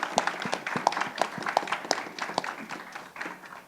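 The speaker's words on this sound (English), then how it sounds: "please give a warm round of applause for all of our panelists" A conference audience at a panel discussion on tobacco harm reduction in South America applauds the panelists, a steady patter of many hands clapping throughout, moderately loud and fairly distant, with no talk over it.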